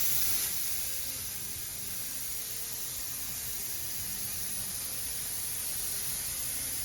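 A steady, close hiss of a spray gun spraying paint runs continuously without pause, with a faint low rumble underneath.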